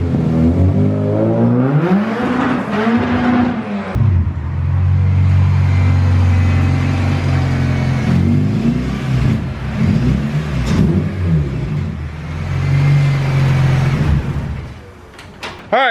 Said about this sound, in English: Haven't heard this car run in a while.